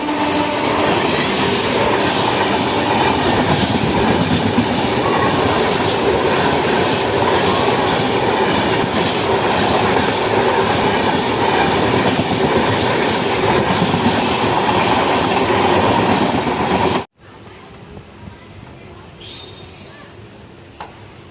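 Moradabad to Lalkuan passenger train running, a loud steady rumble and rattle of wheels and carriages heard from on board, cutting abruptly to a quieter interior near the end.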